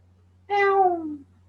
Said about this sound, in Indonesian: Kucing ya, bukan burung ya.